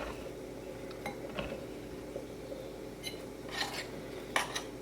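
Chopped strawberries and raspberries being folded into cream in a bowl, soft faint stirring with occasional light clinks of a spoon against the dish, close and quiet with no voices.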